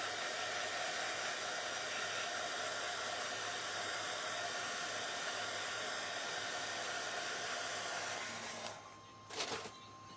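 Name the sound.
hair dryer drying paint on birdhouse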